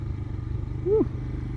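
A 2020 Royal Enfield Himalayan motorcycle ridden on a dirt track holds a low, steady engine drone at a quiet level, with a brief rising vocal exclamation near the middle.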